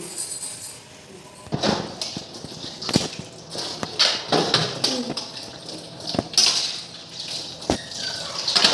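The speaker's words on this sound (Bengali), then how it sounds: "বাসন কিছুটা ধুয়ে নিই" Dishes are washed at a kitchen sink with running water, intermittent clanks of pots and plates, and scraping clatters at an irregular rhythm, fairly close.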